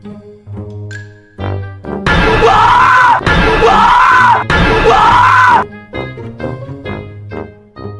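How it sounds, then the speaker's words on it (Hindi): A cartoon character lets out a loud scream from behind a door, three long shrill bursts in a row, with background music and short sounds before and after. "दरवाजे के पीछे से बुल्ली बहुत ही ज़ोर से चीख मार देता है।"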